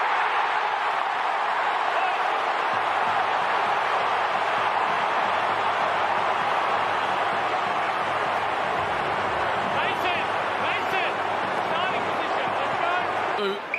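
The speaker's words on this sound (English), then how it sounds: "Crowd says it all." A large stadium crowd roars steadily at an AFL football match, a dense, loud, unbroken wash of noise that swells slightly with a few whistles and shouts near the end.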